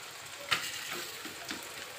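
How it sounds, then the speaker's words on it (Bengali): A spice masala paste fries in a pan in a home kitchen, giving a soft, steady sizzle with a couple of sharp stirring knocks against the pan. "আর এখানে একটু মশলা কষা হচ্ছে, মশলাটা হয়ে এসেছে"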